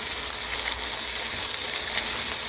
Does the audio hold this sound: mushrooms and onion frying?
yes